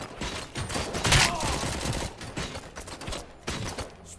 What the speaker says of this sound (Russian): У меня такое ощущение, что у меня кто-то еще стреляет.